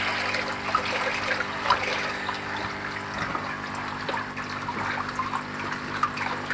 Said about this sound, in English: Another cistern pump here to keep the water topped up.